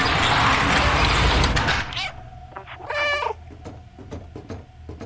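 A cat meows in the video game Stray, a short tonal harmonic call standing out after a loud noisy burst, with soft game ambience and brief clicks around it.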